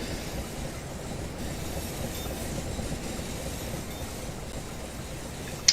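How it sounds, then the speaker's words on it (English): A Class 375 electric train in Southeastern yellow livery runs along the rails with a steady, close rumble and a broad hiss of wheel and track noise. A sharp click comes near the end, and nobody speaks. "the Class 375 in southeastern yellow livery"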